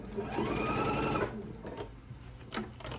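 A sewing machine runs steadily for just over a second while stitching a quilt block with a scant quarter-inch seam, then stops, leaving faint handling noises and small clicks.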